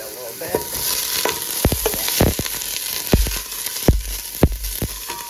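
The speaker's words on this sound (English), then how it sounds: "we're gonna actually just saute this on low until the onion turns" Onion and peppers sautéing on low heat in a pan for homemade chicken and rice, a steady close sizzle broken by frequent sharp scrapes and knocks of stirring, with no talking.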